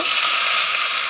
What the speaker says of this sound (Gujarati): એની અંદર આપણે મીઠો લીમડો નાખીશું